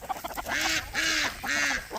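Three loud, evenly spaced honking quacks from homestead fowl near the chicken coop, where ducks, guinea birds and chickens gather, clear and close with no talk.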